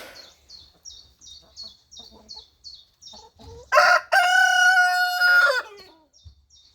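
Hens cluck softly in a repeating pattern, then a rooster lets out one loud, drawn-out crow close by before the clucking resumes.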